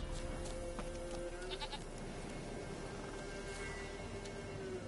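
A goat bleats in The Witcher 3, a few short calls rising over a steady hiss of game ambience and background music, with no talking.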